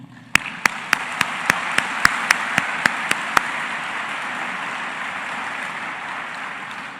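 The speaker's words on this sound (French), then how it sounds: "Merci 1000 fois en une salve d'applaudissements." At a university graduation ceremony, a crowd's applause makes a broad, even roar, with a string of about a dozen sharp, evenly spaced loud claps standing out through the first half before the clapping settles into a steady wash.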